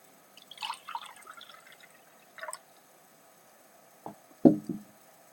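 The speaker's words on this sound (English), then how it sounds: "I guess I'll drink some water while I'm waiting." Someone drinks water during a chess game, heard as a few faint, scattered liquid slurps and soft knocks of a container being handled, with a sharper sip near the end and quiet gaps between.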